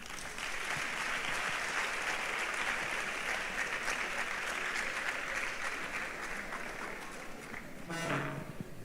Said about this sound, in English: Please, can we clap for Wobel?